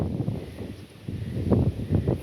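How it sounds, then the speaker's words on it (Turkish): Strong gusty wind sweeps through a garden of pumpkins before a storm, buffeting the microphone with a low rumbling roar that swells and eases in waves, with no voices. "Felaket rüzgar var, fırtına var."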